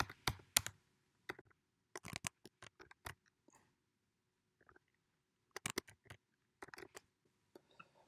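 Card details typed on a computer keyboard, quick bursts of crisp close key clicks separated by short quiet pauses, no talk.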